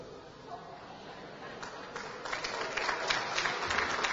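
Applause at a party's 25th anniversary celebration, clapping that starts scattered and builds into steady, growing hand claps from an indoor audience, with a voice faintly underneath.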